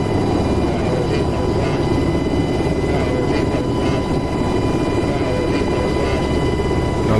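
An aircraft passes in DCS World, a combat flight simulator with Apache helicopters, as a loud, steady, broadband rotor-and-engine roar filling the whole stretch with no speech over it.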